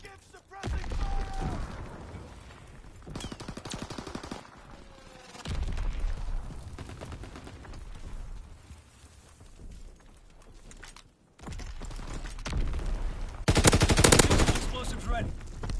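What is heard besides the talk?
gunfire in the video game Call of Duty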